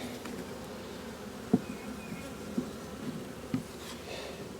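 Steady low buzzing of many bees from a relocated swarm fills the air, with a few soft knocks and bumps scattered throughout; no voices.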